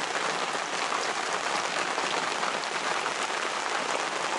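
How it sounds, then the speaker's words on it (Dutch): Heavy rain shower pouring down during a thunderstorm at a harbour on the Westerschelde, a dense steady hiss of drops with no let-up, fairly close and without voices. "En dan gaat het als een gek regenen."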